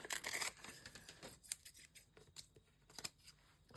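Scissors snip out paper snowflake shapes for a junk journal, giving a run of quiet, crisp cuts with a dense burst at the start and scattered single snips after it, close and alone.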